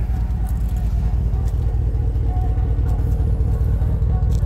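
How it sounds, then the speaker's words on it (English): Steady low rumble of a 2019 Ram Sport pickup truck's mufflers at idle, a constant deep exhaust drone heard up close at the rear with no talking over it. "you love the sound of the mufflers that are on this one right here"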